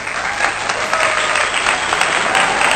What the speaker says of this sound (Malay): Kita beri tepukan gemuruh untuk mereka.